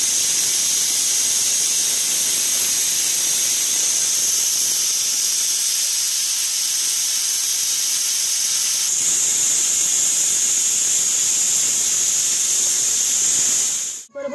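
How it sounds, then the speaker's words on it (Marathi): A pressure cooker cooking pav bhaji lets out a loud, continuous steam whistle, a steady high hiss that holds for about fourteen seconds before cutting off abruptly at the end. "आता आपण शिट्टी व्हायची 2 ते 3 शिट्टी काढून घेणार आहोत."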